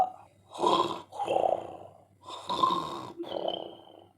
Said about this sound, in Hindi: अफीमी लाल इन सब बातों से बेखबर खर्राटे मारने में मस्त था